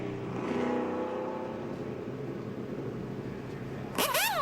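A NASCAR stock car in the 2008 Sprint Showdown and All Star Race qualifying runs down pit road with a steady engine drone, then another car roars past loudly near the end.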